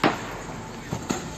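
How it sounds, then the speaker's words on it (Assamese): Gunshots at a university in Perm, Russia, ring out as a few sharp cracks, one at the start and two close together near the end, over a constant noisy background. "কাৰণ পিছফালৰ পৰা ভাহি অহা এই গুলীৰ শব্দ।"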